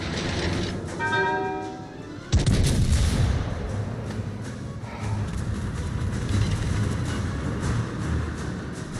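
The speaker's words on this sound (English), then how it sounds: "All stations, requesting fire support." An artillery fire support strike in a video game booms in with a sudden heavy blast, followed by a sustained roaring rumble of explosions and gunfire that stays loud to the end, with no speech.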